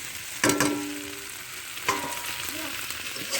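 Fried soya chunks dropped into a hot pan for a thin curry with green banana and taro, hitting with a sharp sizzle, then a second splash and steady frying crackle.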